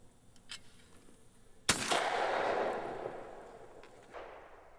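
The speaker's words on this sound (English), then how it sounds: "The trigger is pulled and the gun continues to follow through." A single shotgun blast fired at a clay target outdoors, one sharp loud crack followed by a long fading echo, with faint background noise before the shot.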